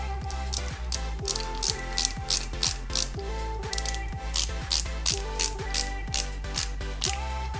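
A ratcheting screwdriver drives a screw into the injection pump cover of a Lancia 037 scale model car kit, giving a steady, close run of rapid mechanical clicks that repeat in short bursts.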